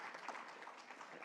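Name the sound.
audience applause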